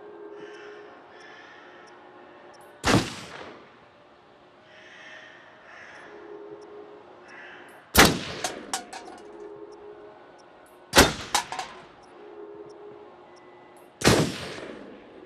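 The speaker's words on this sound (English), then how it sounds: "Wow, nice shooting, Tex." Four sharp, loud gunshots ring out one at a time at a shooting range in the Until Dawn video game, spaced several seconds apart with a quiet backdrop of game ambience between them.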